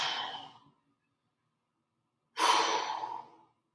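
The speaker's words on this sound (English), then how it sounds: "Breathing deeply into the stomach, exhaling slowly." A person breathes deeply during a full-body stretching routine: a soft exhale, a pause of near silence, then a longer, louder breath out through the mouth, close and clear with no talking.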